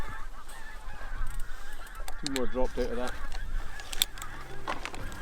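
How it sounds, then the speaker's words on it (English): Geese flying in to decoys on a shoot in Aberdeen give a short burst of several nasal honks near the middle, over outdoor wind noise, with someone speaking briefly alongside. "a load of geese just come in there"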